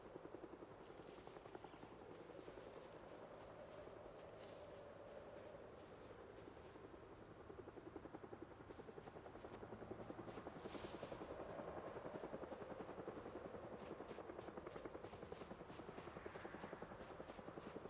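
A helicopter in a video game whirs steadily with a fast rotor chop, faint and continuous, growing a little louder partway through, with no talking over it.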